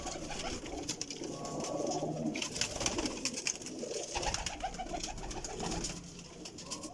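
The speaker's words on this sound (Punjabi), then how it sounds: "ਲਾਲ ਮੋਤੀਆਂ ਵਾਲੇ ਕਬੂਤਰ ਨੇ।" Red-spotted pigeons coo repeatedly in soft, throaty bursts over a busy bird-filled background, with wing flutters and chatter throughout, fairly close and steady.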